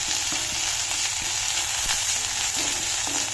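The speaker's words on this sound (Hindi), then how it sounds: "ये हमने सारी अदरक और हरी मिर्ची डाल दी है तड़के में" Ginger and green chillies sizzle steadily in hot oil for a tadka tempering, with close frying crackle and light stirring clinks, and no talking.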